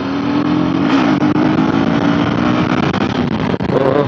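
Motorcycle with its exhaust cut down halfway, running loud and continuous with a steady raspy engine drone that rises in pitch around the end, recorded close while riding.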